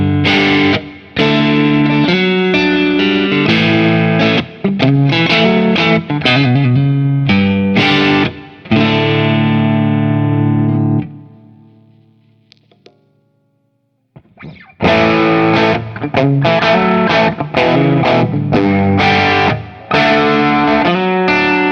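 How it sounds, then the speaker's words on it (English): A Cort G280 Select guitar played through a bluesy breakup tone, loud strummed chords and riffs with mild overdrive, a ringing chord fading out near the middle, a brief pause, then further phrases with no talking. "let's test out a little bit of a bluesy breakup tone and take a listen"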